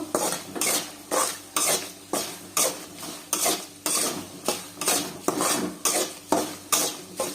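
Spiced puffed rice snack mixture being stirred in a pan: a spoon scrapes and clatters against the metal in a steady, even rhythm of about two strokes per second, close and fairly quiet, with no talking.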